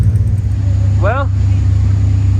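Street stock race cars run hot-lap qualifying at Pike County Speedway, six at a time, making a steady, loud low engine drone throughout, with a brief voice cutting in partway.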